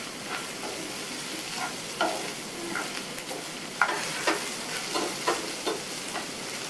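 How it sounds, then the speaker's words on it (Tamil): Capsicum sautéing in oil for a potato-capsicum curry, a soft steady sizzle broken by scattered scraping stirs of a spoon against the pan. "இந்த சேர்த்த குடமிளகா ஒரு 2 நிமிஷம் வதங்கட்டும்"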